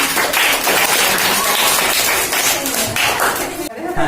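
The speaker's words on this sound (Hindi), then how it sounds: "जोरदार तालियों" Schoolchildren at a government school in India clap loudly and enthusiastically in a close, dense burst that runs for a few seconds before cutting off abruptly near the end.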